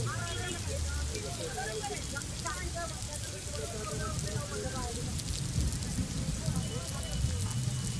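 Heavy monsoon rain pours down in Pune, a dense, continuous hiss of water beneath a voice that keeps talking throughout.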